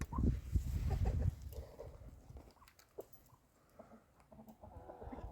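Chickens clucking close by in short, scattered bursts, with a few soft knocks and rustles around them.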